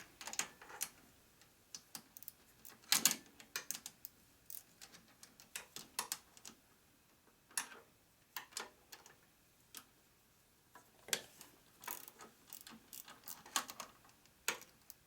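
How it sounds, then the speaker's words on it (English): A low-profile ratchet loosens a bolt on a 2001 Gilroy Indian motorcycle, giving faint, close ticking clicks in short uneven bursts with quiet pauses between strokes. "This is where a low profile ratchet comes in real handy."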